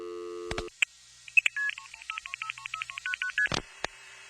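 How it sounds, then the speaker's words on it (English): A phone number dialed on a push-button landline phone: a brief dial tone, then a quick series of distinct touch-tone beeps, with a few clicks. "This was a landline phone, so I had to push a series of buttons, actual physical buttons"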